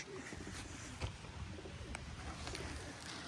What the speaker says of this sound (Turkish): Burada güvercinler daha rahat, daha güzel sökülecek.